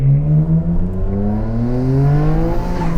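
A 2020 Nissan GT-R 50th Anniversary Edition launching hard on a track, its engine note rising steadily through a loud, continuous run with a gear change near the end, close and unbroken.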